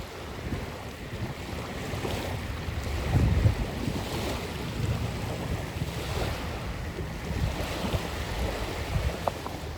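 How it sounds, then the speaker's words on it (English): Ocean waves wash onto a beach in a steady roar, with a slightly louder surge of surf swelling and receding now and then. "The water is really loud."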